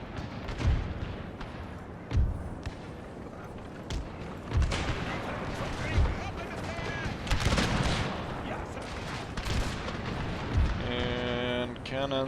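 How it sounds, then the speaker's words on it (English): Cannons fire in a Thirty Years' War battle in Total War, heavy booms landing roughly every couple of seconds over a dense, continuous battlefield din. "And cannons in between."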